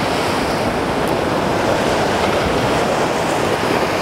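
Sea waves raging around coastal rocks beside a sandbank, a continuous loud roar of surf and wash with wind buffeting the microphone throughout, no voices.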